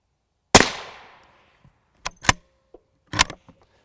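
Rifle rounds (M193, M855, M855A1) fired at a multi-curve Level III silicon carbide armor plate outdoors: one loud sharp crack with a long ringing decay, then a few shorter, quieter cracks and clicks.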